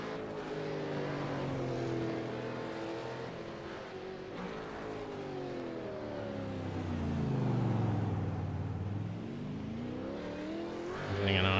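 Supercar engine in an iRacing simulation at Long Beach, droning steadily with rising and falling pitch as it accelerates and shifts through gears, loud and continuous throughout, with a brief louder surge near the end.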